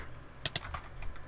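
Computer keys clicked rapidly while playing a video game: a brief burst of several sharp, close, fairly quiet taps, with no voices.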